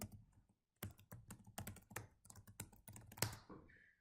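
Fingers type a username and password on a computer keyboard, a quick run of crisp, close key taps in short bursts, with a brief pause near the start and a faint trailing tone at the end.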